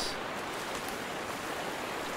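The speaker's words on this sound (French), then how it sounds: "Ah, il pleut." Steady broadband hiss of rain falling in the survival video game Sons Of The Forest, a continuous even wash that fills the whole stretch without breaks, fairly quiet and with no talk over it.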